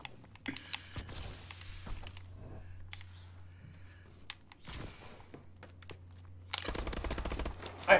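Video game gunfire in an objective match: scattered sharp shots and short bursts over a low steady hum, with a louder, denser volley of automatic fire near the end.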